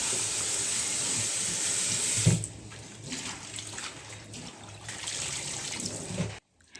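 Boiled papaya leaves being rinsed clean under running water, a steady close wash of flowing and splashing water with no talking.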